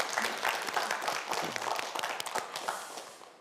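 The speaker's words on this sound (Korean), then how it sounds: "더욱더 힘내라고 큰 박수 보내주시기 바랍니다." Studio audience applauding quiz-show finalists before the final round, a dense wash of clapping from many hands that stays steady throughout and tapers off slightly at the end.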